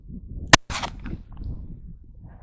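A single sharp shot from a Taurus .380 pistol, loud and abrupt, followed by a short rattling tail of echo and handling noise outdoors, then quiet background.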